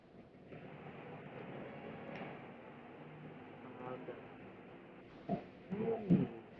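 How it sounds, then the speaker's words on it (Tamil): A passing train gives a low, steady, fairly faint rumble that carries on throughout, and a few voices break in near the end. "ட்ரெயின்டா"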